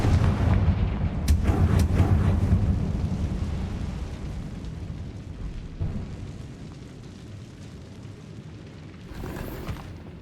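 Confringo fire spell blasts in Hogwarts Legacy, heard as a heavy booming explosion with a fiery rumble that slowly fades, followed by a few cracks and a quieter swell near the end.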